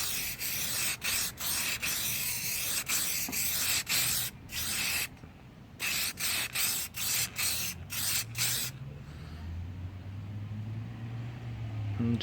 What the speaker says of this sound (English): I'll show you guys basically how easy it is to spray this.